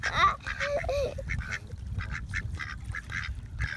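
Ducks quacking repeatedly while being fed by hand at Lake Miramar in San Diego, close and fairly loud in a steady series of calls, with a faint murmur of people nearby.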